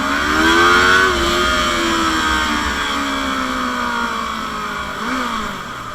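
Motorcycles and cars moving through traffic in Aydın, with a steady engine drone and rising and falling revs running continuously, fairly close and loud, with no talking.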